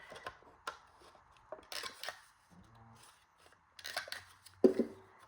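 Quiet crafting sounds as a corner rounder punches the corners of folded vellum paper: scattered soft clicks, rustles and paper handling, with a firmer punch thunk near the end.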